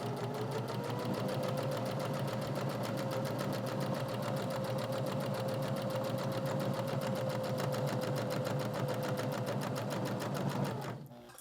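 A sewing machine runs continuously for about eleven seconds, top stitching the side flaps of a fabric journal cover, a fast steady motor hum with a rapid needle rhythm that stops abruptly at the end.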